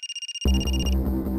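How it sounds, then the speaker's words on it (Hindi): A phone ringtone chirps in quick repeated pulses, then a loud dramatic music sting swells in, a scene from the Indian crime drama CID. "और तभी विशाल को फोन आया।"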